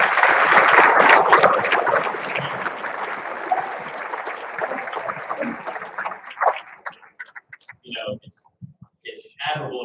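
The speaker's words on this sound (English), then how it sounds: "Everybody give them a round of applause, guys." Audience applause at a 2023 awards convocation, a dense wash of clapping that is loud at first and gradually thins out, giving way to scattered claps and voices near the end.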